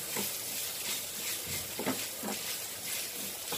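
Half a grated coconut roasting in a pan with oil, a steady soft sizzle with periodic scraping strokes of stirring, close and even, no voices.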